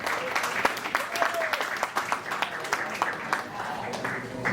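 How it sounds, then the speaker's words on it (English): Sparse, uneven clapping from a restaurant comedy-night audience, several separate claps scattered over a steady murmur of crowd chatter and voices. "Clap your hand if she's funny."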